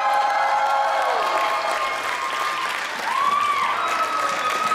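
Convention audience at ConnectiCon 2013 applauding and cheering, a dense sustained wash of clapping with scattered whoops from a large crowd in a hall.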